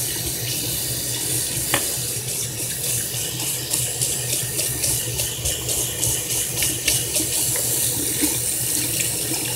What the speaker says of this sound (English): Give it another rinse. Get rid of that gunk.